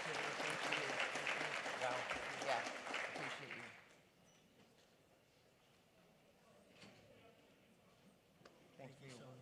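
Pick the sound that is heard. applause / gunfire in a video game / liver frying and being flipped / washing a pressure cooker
applause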